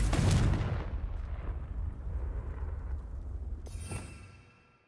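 Confringo explosive spell cast in the game Hogwarts Legacy: a single heavy booming blast at the start that rolls off into a long, fading rumble, followed by a faint hiss near the end.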